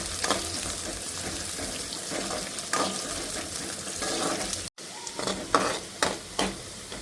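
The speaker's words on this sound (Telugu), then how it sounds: "ఉల్లిగడ్డ ఫ్రై అయింది." Onions with a couple of sprigs of curry leaves fry in a village-style chicken curry pan, a steady broadband sizzle with scraping stirs on top and a brief cut near the middle, then sharper spatula strokes.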